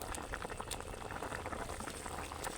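A pot of fish curry with eggplant bubbles steadily as fried rui fish pieces go in, a soft continuous simmering gurgle with small pops, faint and close, with no talk over it.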